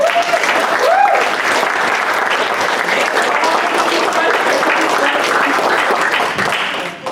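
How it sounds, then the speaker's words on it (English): Audience at a Seed Waikato speaker event breaks into loud, sustained applause for a speaker, dense clapping filling the room and holding steady before fading slightly at the end. "please give a round of applause for Madiha."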